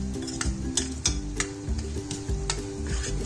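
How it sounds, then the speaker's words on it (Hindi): Spice masala roasts in ghee in a pot for langar-style dal, crackling and sizzling under repeated scraping strokes of a spoon against the metal, close and rhythmic. "उसका घी अलग होने तक भूनते हैं इस मसाले को"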